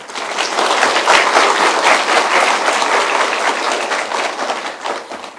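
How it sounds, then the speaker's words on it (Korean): Sustained applause from a large audience at a 2024 cyber university entrance ceremony, welcoming the president, dean and professors; dense steady clapping fills the whole stretch at close range with no talk. "큰 박수로 맞이해 주시기 바랍니다"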